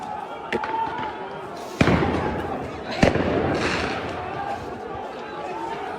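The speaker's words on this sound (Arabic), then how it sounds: "هناك العشرات من قنابل الصوت والغاز في المسجد الأقصى" Stun grenades and gas canisters go off at Al-Aqsa Mosque: two sharp blasts cut through a dense roar of crowd noise and shouting, with a voice talking over it.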